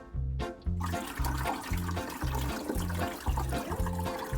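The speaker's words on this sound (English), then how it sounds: "So just keep filling it until you see the water level come up to the line." Distilled water pours steadily into the reservoir of a Grownsy baby bottle cleaner and sterilizer, a continuous close splashing and gurgling flow with a rhythmic pulsing undertone.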